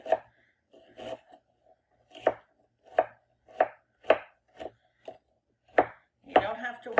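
A cooking onion being diced with a knife on a cutting board, with about ten crisp, separate chopping strikes in an uneven rhythm, close and clear against near silence.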